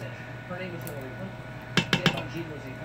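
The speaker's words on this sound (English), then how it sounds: "Try not to bump that pan too much" A cooking pan takes a few quick metallic clanks while chicken parmesan pasta is prepared in a kitchen, three sharp knocks in close succession under steady talk.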